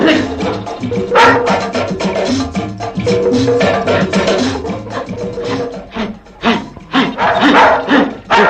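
A house dog barks amid a busy, loud scene in a 1979 Tamil film, its barks mixed into a dense clatter of other sounds and shouting.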